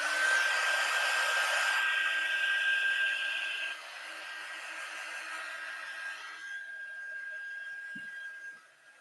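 Hair dryer blowing on wet paint with a loud, steady airy roar that drops to a lower setting partway through, runs on evenly, and cuts off near the end with a faint click.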